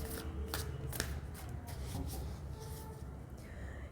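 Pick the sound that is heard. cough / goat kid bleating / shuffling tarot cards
shuffling tarot cards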